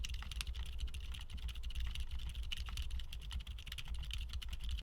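Rapid, steady typing on a keyboard fitted with silent tactile mechanical switches, producing soft, muted clacks in a continuous irregular patter, close and fairly quiet, with no voices.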